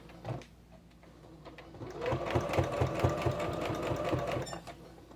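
A sewing machine stitches along the side of apron fabric with a quick, even needle rhythm, starting after a short pause and running steadily for several seconds at close range.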